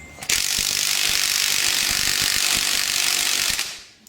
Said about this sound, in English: Ideally you want one with an adapter so that you can put it on the rattle gun